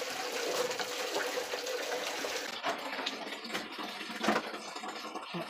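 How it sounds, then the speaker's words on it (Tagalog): Water runs from a kitchen tap while sweet spaghetti is prepared, a steady close gush with splashes that shifts tone partway through as the flow changes. "Tubig."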